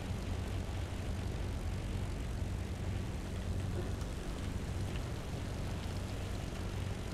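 A steady airplane engine drone from a video game during a flapless landing, a continuous low hum with no breaks that holds at an even level throughout.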